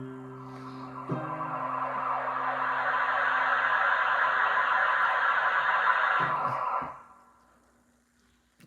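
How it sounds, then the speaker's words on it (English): Old-school electronic siren from a Roland MT 300 sequencer, a steady sustained wail held loud for about five seconds after a short tone lead-in, then fading out, with no talking. "Oh, here's an old school siren."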